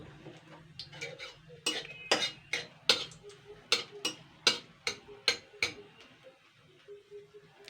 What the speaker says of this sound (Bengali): জাস্ট 1-2 মিনিট একটু হালকা নাড়াচাড়া করে নেব।